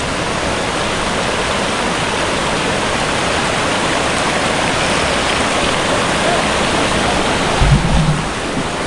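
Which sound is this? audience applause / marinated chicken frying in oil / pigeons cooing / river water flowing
river water flowing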